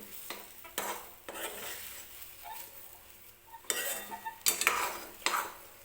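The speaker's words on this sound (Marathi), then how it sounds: "त्यासाठी थोडंसं मीठ टाकायचं आणि व्यवस्थित मिक्स करून घेते मी." Semolina pudding (sheera) with a pinch of salt is stirred in a pan, a spoon scraping in intermittent strokes with faint sizzling between them, close and fairly quiet with no talking.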